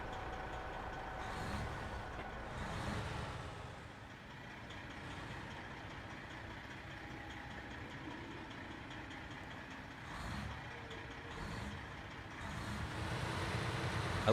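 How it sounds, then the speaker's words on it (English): A heavy truck engine in the SnowRunner video game drones with a steady low rumble, faint and continuous, with slight swells in loudness. "I like the way that this truck sounds as well."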